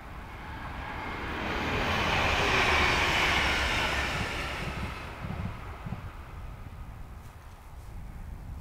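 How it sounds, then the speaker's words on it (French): A train rumbles past, its broad roar swelling to a peak then easing off, with wind buffeting throughout. "après le vent, il y a le train qui arrive maintenant"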